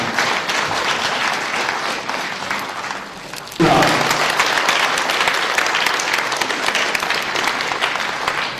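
Audience applause at a provincial Cooperative Day ceremony in Jeollabuk-do, steady clapping that swells abruptly and loudly midway and carries on densely to the end.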